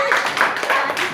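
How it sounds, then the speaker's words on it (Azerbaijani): A small group of children and adults applauding at the end of a Taboo word game round in a classroom-style setting, brisk close clapping with rhythmic bursts. "Alqışlar."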